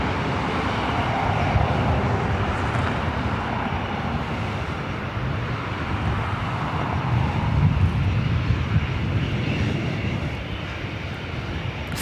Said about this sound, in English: This is Delta Airlines Flight 1403, flight heading to SFO in this A320.